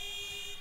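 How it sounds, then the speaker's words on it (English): A basketball game buzzer horn sounds in a school gym during a Bishop Timon Tigers versus St. Mary's Lancers matchup, giving one steady electronic tone that holds through the whole brief moment over a faint crowd murmur. "And that is the buzzer for the first horn."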